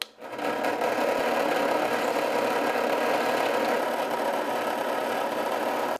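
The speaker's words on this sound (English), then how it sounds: "I'm gonna clean up these holes a little bit with this countersink bit." Countersink bit spinning in a metal saltwater jig to clean up drilled holes, a steady mid-pitched whirring grind running the whole time, fairly faint.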